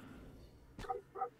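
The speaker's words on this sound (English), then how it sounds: "I think I can hear your dogs in the background. They're having a right good go, aren't they?" Two dogs yip and bark in a short pair of quick, faint barks, off in the background behind a quiet room.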